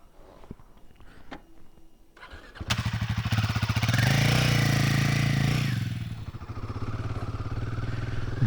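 A Royal Enfield Himalayan 450 motorcycle starts with quiet clicks and fumbling, then its engine fires into a loud, steady thumping run. The revs rise, then ease back toward idle, and no one talks.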